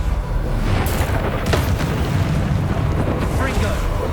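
Bombarda blasting spell from Hogwarts Legacy, a loud continuous roar of explosive rumble and debris with sharper bursts layered over it.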